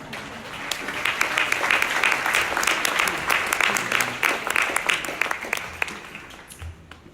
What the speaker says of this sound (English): please, again, give a great round of applause for her